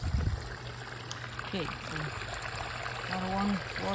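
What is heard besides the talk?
water trickling into a DIY pool and pond filter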